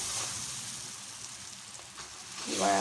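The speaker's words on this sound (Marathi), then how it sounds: "तवा छान गरम झालेला आहे आणि मी इथे तेल पण छान असं लावून घेतलेलं आहे आता आपण आपला चिला तयार करूया" Chila batter on a hot, oiled tawa, giving a steady, close hiss of frying that swells louder near the end.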